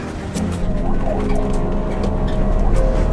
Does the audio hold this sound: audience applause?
no